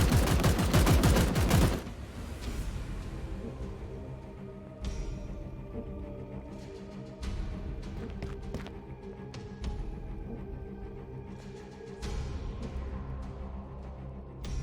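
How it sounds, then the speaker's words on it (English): Suppressive gunfire in Chaos Gate: Daemonhunters rips out as a dense opening burst of rapid automatic shots, then continues as scattered bangs and impacts over a steady rumbling game soundscape. "Suppressive fire."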